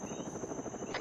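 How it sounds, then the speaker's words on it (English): Huey helicopter in a tactical military shooter game, a steady rotor drone filling the whole moment at a consistent level, with no speech over it. "Helicopter audio south."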